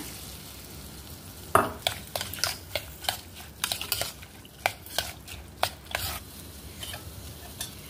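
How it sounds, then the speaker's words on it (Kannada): Brinjal bajji being mixed after tempering with onion and coriander is added, with a steady faint sizzle and a series of sharp spoon scrapes and clinks against the pan, sounding near and without talk. "ಒಂಚೂರು ನೀರುಳ್ಳಿ ಹಾಕೊಂಬ, ಈ ಒಗ್ಗರಣೆ ಹಾಕೊಂಬ."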